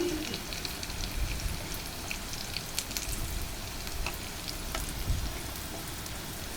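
Onion fries in a pan with cinnamon and cardamom, making a continuous soft sizzle with faint, occasional stirring scrapes underneath. The sound is steady and fairly quiet throughout, with no speech.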